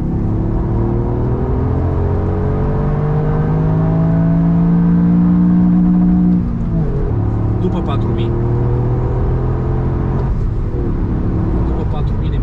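A 2021 Toyota GR Yaris engine revs hard in third gear, a loud droning climb in pitch from inside the car, with a gear change partway through and someone talking over it.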